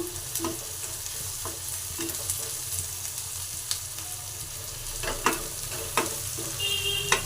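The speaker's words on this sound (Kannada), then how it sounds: "ಈ ಥರ ಮೆಣಸಿಕಾಯಿ ಹಾಕಿ ಸ್ವಲ್ಪ ಎಣ್ಣೆಯಲ್ಲಿ ನೋಡಿ ಫ್ರೈ ಮಾಡ್ಕೋಬೇಕು" Green chillies frying in a little oil in a pan for egg bhurji, a continuous close sizzle with frequent sharp spatula clicks and stirs scattered throughout.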